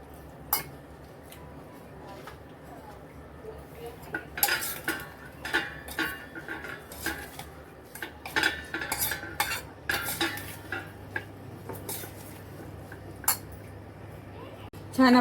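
Bhel puffed-rice snack is tossed with salt and tamarind-date chutney in a bowl, giving a steady run of close scraping, stirring and clinking of a spoon against the dish, growing busier midway, with some quiet talk at times.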